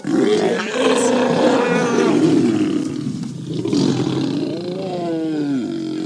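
Lions roaring on safari, a pride protecting cubs after males came too close; loud, close, sustained deep roars and growls that rise and fall continuously across the whole stretch without talk.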